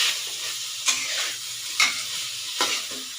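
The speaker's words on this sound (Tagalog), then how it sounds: "Habang ginigisa natin." Pork sizzles steadily in a hot pan with oyster sauce while a spoon stirs it, giving three sharp scraping strokes spaced about a second apart over the continuous frying hiss. Nobody speaks.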